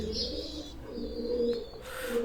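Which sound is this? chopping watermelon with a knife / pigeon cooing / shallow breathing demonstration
pigeon cooing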